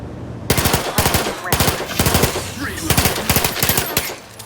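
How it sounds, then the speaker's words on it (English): Bursts of video game gunfire, rapid automatic rounds in several loud close volleys with short pauses between them, continuing steadily throughout. "we'll just shoot him"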